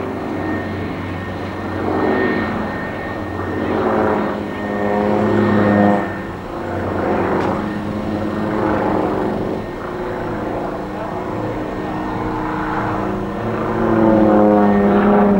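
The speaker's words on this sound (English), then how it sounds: "This is reputed to be the best aerobatic aircraft in existence." Propeller-driven aerobatic aircraft performing a flying display at the 1992 Farnborough air show, its engine droning loudly with repeated rising and falling swells as it loops and passes overhead, without speech.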